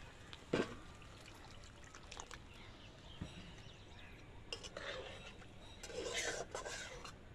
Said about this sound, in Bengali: হালকা করে নেড়ে আমরা একটু জল দিয়ে দেবো এর মধ্যে।